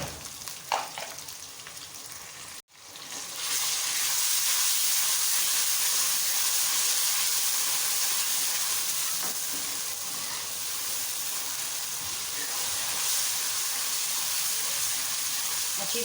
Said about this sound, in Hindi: प्याज को अच्छी तरह से फ्राई करें।